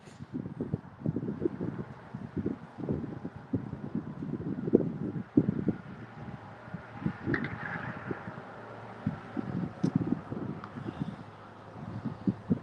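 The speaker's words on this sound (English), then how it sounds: "that wind was so bad" Strong wind buffeting the microphone on a coastal fishing trip near Panama City, heard as loud, irregular rumbling gusts and low blustery thumps that come and go throughout, with no talk.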